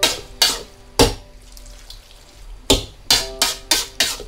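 Wet kway teow noodles stir-fried home-style in a pan, with sharp bursts of sizzling and tossing in an uneven rhythm: a few spaced strokes, a pause, then quicker repeated ones, loud and close.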